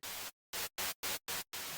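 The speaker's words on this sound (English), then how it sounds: "change it to white noise or noise white, bring the volume down because it'll be quite noisy, and we'll get, as we expected, some white noise." An Ableton Live Operator synth set to a white noise waveform plays six bursts of hiss, one long opening burst followed by a string of shorter, evenly spaced notes separated by silence, with no talk.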